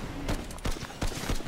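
Rapid bursts of gunfire in the battle game Fortnite during a squad fight, several sharp shots in quick irregular succession over a noisy game background, with no talking.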